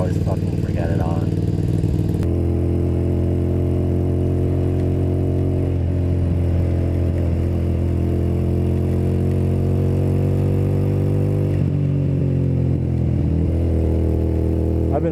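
Motorcycle engine running steadily while riding in wet weather, a loud continuous drone with engine tones shifting slightly as speed changes.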